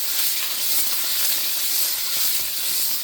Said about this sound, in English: So we're just going to give the pork a sear, to bring it up to a safe temperature and to give it a really nice crust.